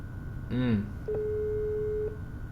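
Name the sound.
telephone ringback tone while calling a car seller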